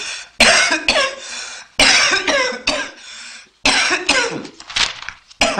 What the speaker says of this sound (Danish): Hvis jeg ryger, så får jeg bare sådan en hoste.